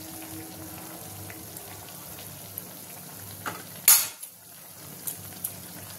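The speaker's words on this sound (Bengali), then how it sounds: "প্রথমে একটু আস্তে আস্তে ভাজবো, তারপরে একটু আঁচটা বাড়িয়ে দেবো, তাহলে সুন্দর ভাজা হবে" Carrot malpua fries gently in oil with a quiet, steady sizzle, broken by a few utensil clinks and one sharp clatter near the middle.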